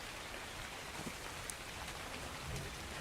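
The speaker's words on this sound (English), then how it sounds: "I would normally care about the rain being an issue, but we can't make it stop" Rain in the video game Ark Survival Evolved, a steady dense hiss of rainfall with scattered faint drop ticks, continuous and even throughout with no talking.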